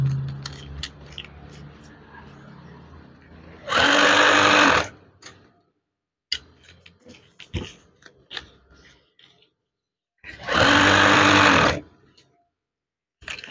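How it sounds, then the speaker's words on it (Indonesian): Sewing machine stitching along the bottom of eyelets on a 190 by 230 cm curtain, two loud sustained bursts of rapid needle running separated by quieter handling clicks and rustles. "Jahit bagian bawah eyelet."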